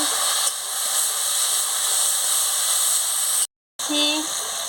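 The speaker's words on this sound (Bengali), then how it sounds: "অল্প একটু জল দিয়ে মশলাটাকে ভালো করে ভেজে নিচ্ছি।" Spice paste frying in a pan with a little water added, a steady loud hiss and sizzle that briefly cuts out, then resumes with a voice speaking over it.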